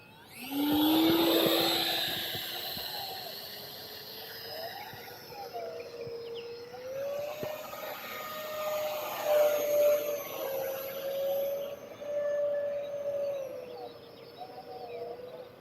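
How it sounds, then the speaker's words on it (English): An E-Flite F-15 RC jet airplane passes overhead, its ducted-fan whine rising sharply, then holding a steady high hum that swells and fades as it flies at varying distance. "It's a cool RC airplane, this F-15."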